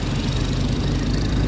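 A tractor engine idles at a roadside in Gandhinagar, a steady low rumble running loud and close throughout with no break.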